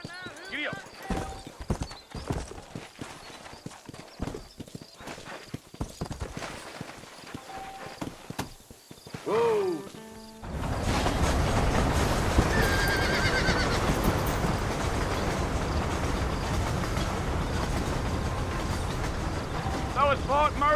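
Horse in the Red Dead Redemption video game, first clip-clopping hooves with a whinny, then a sustained galloping rush of hoofbeats, with in-game dialogue at the start.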